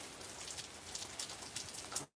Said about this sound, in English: Like it's just now started to rain here